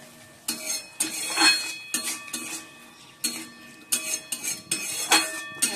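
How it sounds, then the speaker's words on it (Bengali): Spice masala with yogurt, cashew paste and poppy seed paste being stirred in a pan, with repeated scraping and clinking of a spatula against the metal at an irregular rhythm, close and moderately loud. "মশলাটা এবার কষিয়ে নিচ্ছি"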